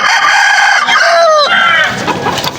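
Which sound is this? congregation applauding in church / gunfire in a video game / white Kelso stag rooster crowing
white Kelso stag rooster crowing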